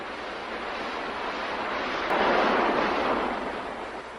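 A steady broad rush of falling water from the Tenkwa waterfalls fills the air, swelling a little louder halfway through, continuous and unbroken with no voices.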